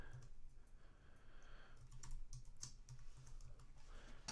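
A password is tapped out on a computer keyboard in quick, light clicks of irregular rhythm, faint and close against a low background hiss.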